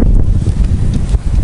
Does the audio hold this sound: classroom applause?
no